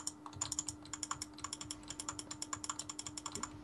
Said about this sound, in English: You can hear my furious clicking right now